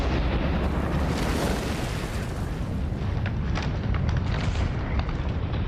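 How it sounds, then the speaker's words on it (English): Deep rumbling blasts and roaring bursts from an erupting volcano, continuous and loud, with crackling pops layered over a heavy low roar. "this eruption is still increasing in power and explosions"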